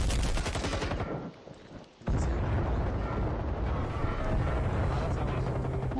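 Grenade explosions in a video game firefight: loud bursts and crackling blasts, then a brief near-silent lull before another heavy, sustained roar of detonations and gunfire-like noise.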